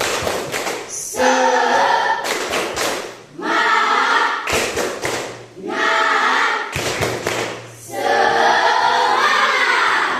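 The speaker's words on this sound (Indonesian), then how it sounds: "Tepuk semangat." Primary school children in a classroom perform a rhythmic spirit clap: bursts of loud unison clapping and thumps alternate with group chanting, repeating in sections across the room.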